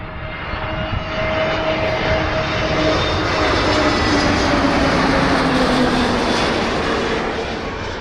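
An EasyJet airliner comes in to land at Manchester Airport with a steady, loud engine roar and whine that holds for about eight seconds, swelling slightly as it nears, with no talking over it.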